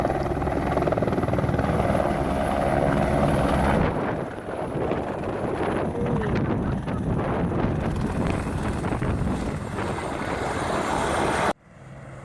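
A helicopter carrying a large HD camera on its nose roars loudly and steadily close by as it comes in to land in the Italian Dolomites, its rotor thudding rapidly with wind noise, before the sound cuts off abruptly.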